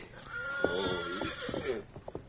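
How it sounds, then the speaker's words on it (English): A horse whinnies loudly nearby on a western ranch, a long shrill neigh that wavers and breaks into shaky pulses before trailing off, with a few soft snorts after. "Now get on your Mustang and take those horses away from here"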